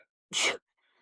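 A single short, sharp sneeze bursts out close by in an otherwise quiet room.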